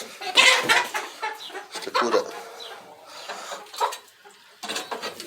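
Rapid clucking bursts from a rooster on a sheep farm, loud and close, in an irregular series of short noisy calls.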